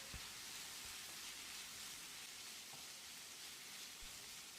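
Ginger garlic paste fries with coriander powder, chili powder and chopped coriander leaves, giving a steady, soft, continuous sizzle with a few faint stirring clicks.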